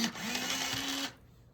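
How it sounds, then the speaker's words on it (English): A colored pencil in China blue being sharpened in a pencil sharpener, one steady whirring grind of about a second that stops abruptly, close and fairly loud, with no talk. "Just gonna give this a sharpen really quickly."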